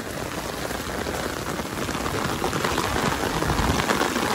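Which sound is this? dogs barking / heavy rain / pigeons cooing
heavy rain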